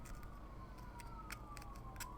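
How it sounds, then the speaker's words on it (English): A distant emergency siren wails faintly with a slowly falling tone, mixed with road noise and a few brief clicks nearby. "Oh, there's gonna be sirens."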